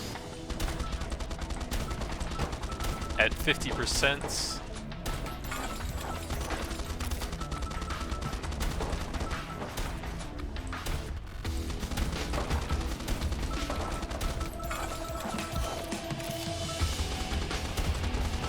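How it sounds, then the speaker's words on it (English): Rapid Gatling gun fire in the alien-horde video game Swarm Grinder, mixed with ricochets and explosions, forms a dense, continuous barrage of loud shots layered over game music, with brief talk partway through. "So let's grab the Gatling gun here, ricochet, explosion."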